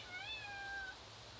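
A domestic cat gives a single clear, rising-then-falling meow lasting under a second, close and alone in a quiet room.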